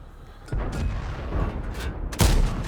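Tank cannon fire from an M4 Revalaroise in a tank battle video game, two heavy booming shots about two seconds apart, the second louder and closer, with rumbling battle noise between them.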